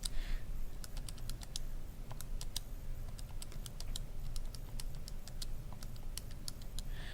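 Keys on a calculator keypad tapped one at a time in an irregular, unhurried series of light, close clicks over a quiet room.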